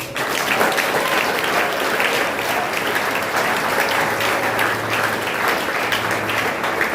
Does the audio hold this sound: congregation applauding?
yes